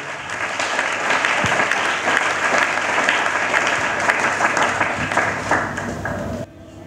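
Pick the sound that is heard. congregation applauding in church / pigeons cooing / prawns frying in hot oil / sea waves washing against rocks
congregation applauding in church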